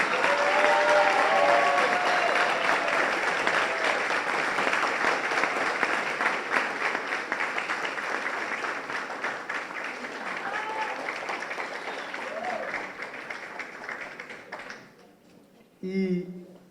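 An audience at a lecture by a Supreme Court minister applauds warmly during an award presentation to a professor; sustained dense clapping that slowly thins over about fifteen seconds before a brief voice near the end.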